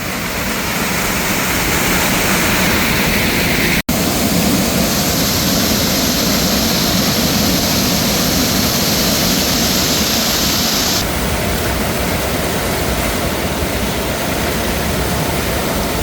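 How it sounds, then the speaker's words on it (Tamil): A loud, constant roar of rushing water at a dam fills the scene, a dense unbroken wash of noise close by, briefly interrupted by a sharp click. "நான் பேசுகிற சவுண்டோட தண்ணி சவுண்டு பயங்கரமாக கேட்கும்."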